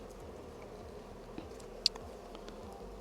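Honey bees hum faintly around an open spring hive frame heavy with nectar, a soft steady buzzing with one brief sharp click partway through and no talking.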